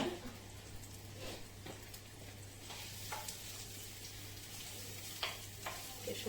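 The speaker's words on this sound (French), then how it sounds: "On va mettre l'oignon directement dans l'huile qui a préchauffé." Chopped onion sizzles and fries in preheated oil for a French turkey tajine, a steady close hiss with occasional crackles and spatula scrapes, no voices.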